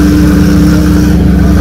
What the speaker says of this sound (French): Mercedes AMG Black Series.